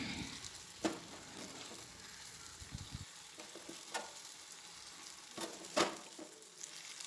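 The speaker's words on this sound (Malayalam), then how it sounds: "ഈ സമയത്ത് നമുക്ക് മഞ്ഞൾ പുരട്ടി വെച്ചിരിക്കുന്ന നമ്മുടെ ചെമ്മീൻ ചേർത്ത് കൊടുക്കാം." Turmeric-marinated prawns cook in sizzling masala in a pan, a steady low hiss broken by scattered spatula scrapes and clinks, quiet and close, with no voices.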